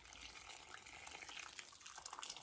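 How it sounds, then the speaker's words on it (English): Warm water poured from a kettle into a cooking pot of Jamaican brown stew turkey necks, a faint, steady splashing trickle that lasts a couple of seconds. "I have some warm water in a kettle, and I'm just going to throw some in the pot"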